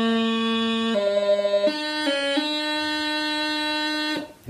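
Throw on D embellishment on a piping chanter beginning from low A: a bright reedy melody stepping through several quick grace notes with a fluttering passage, settling on a long held D before stopping abruptly, solo and close.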